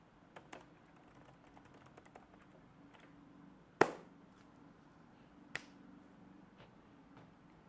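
A few sparse, sharp key clicks from a cheap laptop keyboard, with one louder clack and a second lighter tap standing out against a quiet room hum; no one speaks.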